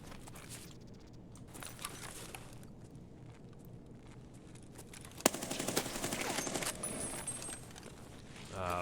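Gunfire in the shooter SPT Tarkov: a sharp shot cracks out, then a rapid, dense burst of shots follows, fairly quiet overall, after a stretch of lighter clatter.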